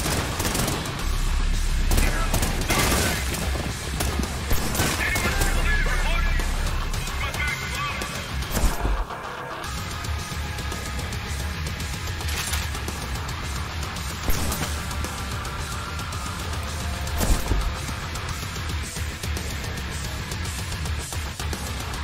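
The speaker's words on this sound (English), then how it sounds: "Wait, you can dual wield shotguns?" Dual-wielded shotguns fire in the action shooter Trepang2, a steady barrage of loud blasts and impacts packed over heavy game effects for the whole stretch, with a few sharper booming peaks standing out.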